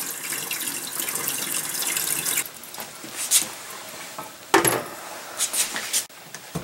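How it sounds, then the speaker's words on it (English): Water pours steadily from a household faucet carrying unsoftened water for a couple of seconds, then shuts off, followed by scattered clinks and light handling noises nearby. "the faucet on the right is for water that has not been through the water softener."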